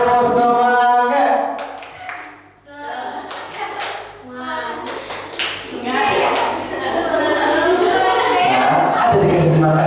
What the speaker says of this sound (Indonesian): Kelompok biawak, coba tepuk semangat.